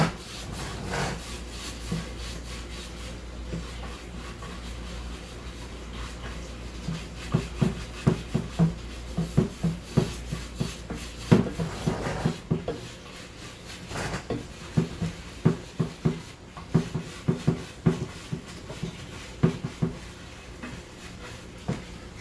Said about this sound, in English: I'm not scrubbing, I'm just lightly wiping it off